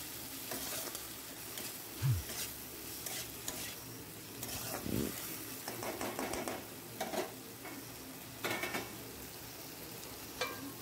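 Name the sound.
frying spice masala with a little water for fish curry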